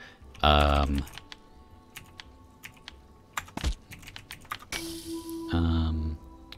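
Computer keyboard keys pressed while playing the fantasy word game Words For Evil, heard as a scatter of sharp, close clicks mixed with tonal game effects.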